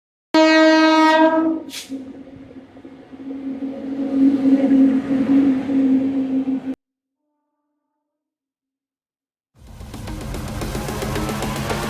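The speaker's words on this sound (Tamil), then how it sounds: "ட்ரெயினுங்க." A train horn blares with a loud harmonic blast, then the train rumbles past steadily before falling silent; a second rumble of rolling wheels returns near the end.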